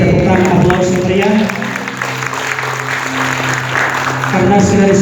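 Applause from guests at a Christian wedding ceremony as the groom lifts the bride's veil, steady clapping filling the room while a voice speaks over it and music plays underneath.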